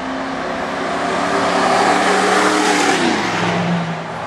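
Tan and white Chevy trucks racing at the gut, with loud, steady engine roar and revving sustained close by throughout, a pitch shift partway through as a truck spins, no talking.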